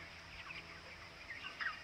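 Antibiotic-free broiler chickens cluck softly at a distance on a poultry farm, faint scattered calls over a low steady background hum.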